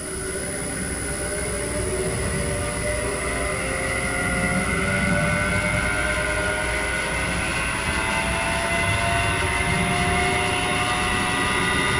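An electric motor on a cheap eBay variable frequency drive spins up toward its normal 60 hertz speed, a steady rising whine and hum with faint rattle, continuous and fairly loud throughout, with no talk.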